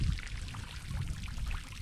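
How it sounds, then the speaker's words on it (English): Water pours and splashes from a small fountain into a garden pond, a close, continuous trickling wash with no voices. "Got a nice little water fountain"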